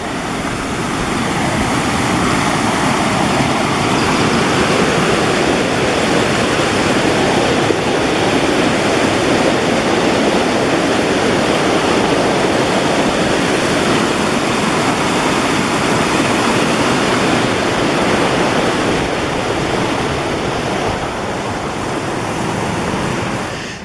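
Rushing mountain creek water flows steadily and loudly at about 10,800 feet on the southwest slopes of Mt. Belford, a dense broadband roar close by, constant for the whole stretch with no voices over it.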